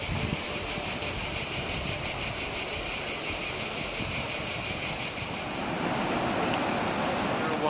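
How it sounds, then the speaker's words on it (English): Loud, continuous cicada buzzing with a fast pulsing shimmer, steady throughout over a faint outdoor rush, in Croatia. "You're wondering what's making that sound. It's that thing. Wait, let me see if I can find it. Cicada."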